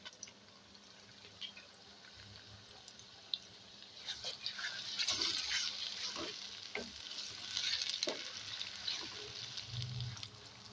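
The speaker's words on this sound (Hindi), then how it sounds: "प्याज भी हमारा फ्राई हो गया, ज़्यादा फ्राई नहीं करना" Onions frying in oil in a pan while a gravy is started, a steady broadband sizzle with occasional stirring scrapes and brief bursts of louder spitting, close and continuous with no talk.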